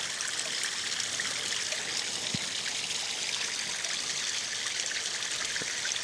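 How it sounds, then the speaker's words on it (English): Water rushes steadily through a pond filter with a UV sterilizer during a back flush, a constant close trickling and streaming hiss with no voices. "Water gets really dirty as it back flushes the filter."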